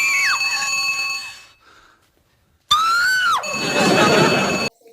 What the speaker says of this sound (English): They used to use Jennifer Love Hewitt's scream as stock scream